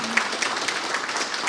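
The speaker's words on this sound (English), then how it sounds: "So round of applause to you guys for being here." Audience applause at a real estate investing seminar, steady broadband clapping filling the room with no speech over it.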